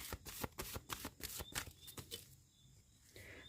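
Tarot cards being shuffled by hand in a series of rapid, crisp riffling bursts that thin out toward the end, close and fairly quiet, with no talking.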